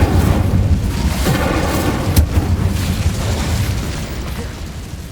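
Incendio fire spell cast in the Hogwarts Legacy game, a loud fiery burst with booming rumble that crackles on and slowly fades, a sharp snap partway through, no voices.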